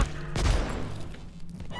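Gunfire from a first-person shooter in the video game Abiotic Factor, with a loud burst near the start settling into a rumbling, echoing tail over under two seconds.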